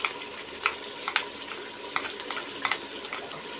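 Ground ginger-garlic paste goes into a pot of beef nihari and is stirred, giving a steady frying sizzle punctuated by sharp spoon clinks against the pot.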